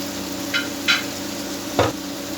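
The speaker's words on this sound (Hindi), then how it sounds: "1 मिनट तक फ्राई करेंगे।" Chicken tikka frying in a pan with tikka masala and lemon juice, a steady sizzle under a few brief scraping stirs of a spoon, close and alone.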